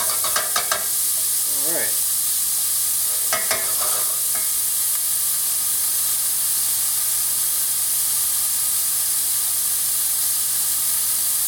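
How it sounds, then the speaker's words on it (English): A wooden spoon stirs a cassoulet pan of browned onions under a steady, even sizzle, with a few scraping strokes early on and one short word spoken over it. "I'm using a wooden spoon to do this, so I don't upset that brown."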